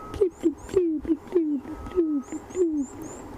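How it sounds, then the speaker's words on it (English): A grey hornbill gives a series of mellow, descending hooting calls at a regular pace, about seven in a row, fairly clear against a quiet background, heard in the distance on a safari sunrise drive. "you can hear a grey hornbill in the distance"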